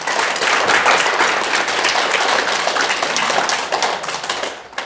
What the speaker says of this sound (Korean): 이분을 위해서 박수 한번 쳐주십시오.